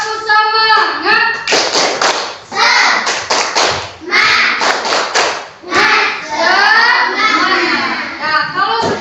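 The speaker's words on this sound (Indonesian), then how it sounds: "Ayo, tepuk semangat." A primary school class performs a rhythmic spirit clap (tepuk semangat), with loud group clapping in quick patterned bursts mixed with children's chanting voices.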